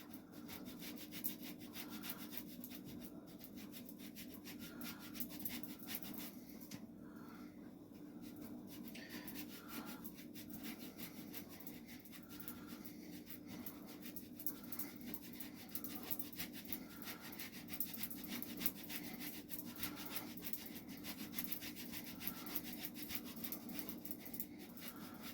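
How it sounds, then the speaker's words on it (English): Pecorino romano cheese rubbed by hand against a grater in long, repetitive strokes, faint and close, continuing steadily without a break. "you want to grate yourself a lot of pecorino romano"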